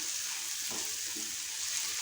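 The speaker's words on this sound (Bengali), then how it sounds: "একটু লালচে ফ্রাই করতে হবে।" Mushrooms and chopped onion frying in butter give off a steady, close hiss with a couple of faint soft scrapes, and no one speaks.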